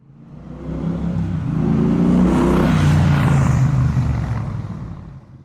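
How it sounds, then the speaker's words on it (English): A brand-new CFMOTO 300SS motorcycle pulls away from a dealership, its engine revving up through the gears in a steady, building whine that swells loud and close before easing off, with no talking. "I am just leaving the dealership on a brand new CFMOTO 300 SS"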